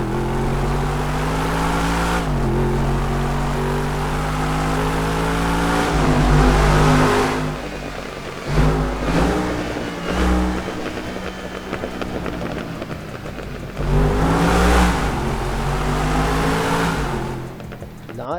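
A modified car engine in GTA 5 revs hard inside a tunnel, loud and echoing, with several surging bursts and gear changes and a droning tone that rises and falls throughout.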